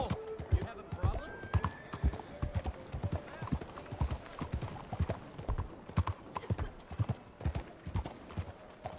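Horse hooves clop in a fast galloping rhythm in Red Dead Redemption 2, loud and close, with a few creaks and brief voices in the background.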